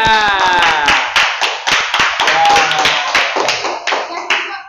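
Children clap together for the winner of a classroom thinking game, a loud burst of quick uneven claps that carries on throughout, with an adult's voice over the start.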